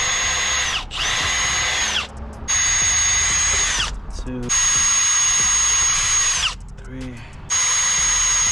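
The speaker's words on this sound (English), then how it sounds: "now we go ahead and pre-drill your hole." A power drill whines in several bursts while pre-drilling holes in fiberglass, rising to a steady high pitch then stopping, with brief pauses and a few spoken words between runs.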